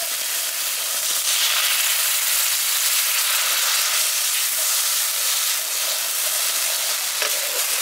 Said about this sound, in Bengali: এবার এর মধ্যে আমি জল দিয়ে দিচ্ছি।